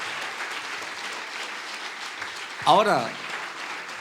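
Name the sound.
congregation applause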